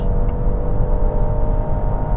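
A Range Rover Autobiography 2.0 plug-in hybrid SUV accelerates at full throttle on a highway, its engine and road noise a loud, steady low rumble heard from inside the cabin, with no talk.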